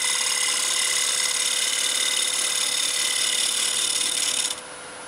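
A steady, high-pitched whirring rasp of a lathe taking a very light cut while turning a small plate, loud and even, ending abruptly as the cut stops.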